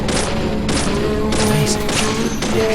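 Gunshots ring out in the game Deadly Premonition, several loud, sharp reports spaced roughly half a second apart over a sustained rumbling background, with no voices.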